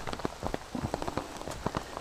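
Cold drizzle falls on the Appalachian Trail, its drops pattering close by in quick, uneven taps on a nearby surface, steady and fairly quiet throughout. No one speaks.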